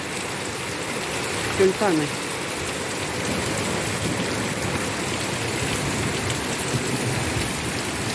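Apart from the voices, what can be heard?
rain falling without wind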